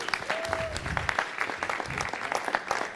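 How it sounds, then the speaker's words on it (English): Audience applause at a city council meeting honoring a young woman, a steady wash of clapping from a crowd in a hall, moderately distant with a faint tone briefly audible early on. "give her a round of applause for that"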